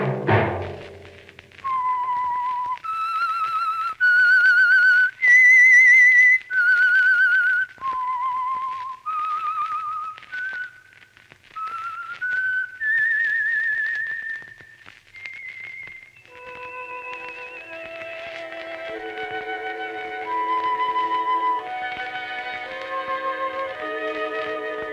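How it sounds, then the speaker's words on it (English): A lone whistler performs the eerie theme tune of The Whistler radio program, clear sliding notes rising and falling in a slow melody, followed by a softer orchestral passage that carries the tune. "Let that whistle be your signal for the Signal Oil program, The Whistler"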